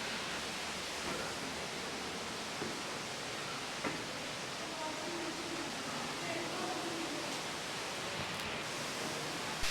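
A waterfall beside the path to the Ellora caves gives off a constant broadband rushing hiss, steady and moderately distant, with faint voices and footsteps scattered through it.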